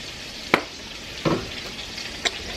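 Salmon seasoned with garlic powder searing in a pan, a steady moderate sizzle punctuated by three sharp utensil clicks, heard alone without voices.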